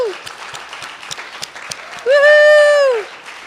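Congregation applause and cheering at a Sunday church service, scattered claps leading into a loud, sustained whooping cheer from a voice near the front that holds for about a second before dropping off.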